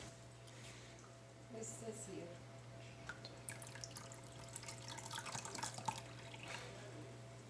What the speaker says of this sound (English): Pour in some more water, just so it's covering it